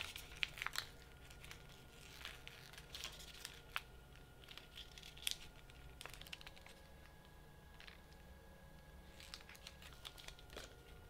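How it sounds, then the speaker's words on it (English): Sticker sheet being peeled apart by hand, a soft run of crinkles and small tearing ticks near the microphone over a steady low hum. "I'm just gonna pull the parts that we don't want away."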